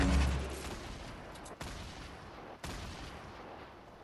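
A grenade explodes in Fortnite with a heavy, close boom at the start that fades into a long rumbling decay, followed by two fainter sharp cracks.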